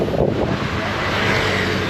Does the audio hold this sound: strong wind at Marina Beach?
yes